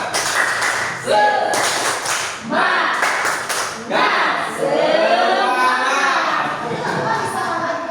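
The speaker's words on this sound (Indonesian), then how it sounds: "Tepuk semangat." A group claps in quick rhythmic patterns in several bursts, with children's voices chanting and talking between and over the claps, in an Indonesian school spirit-clap routine.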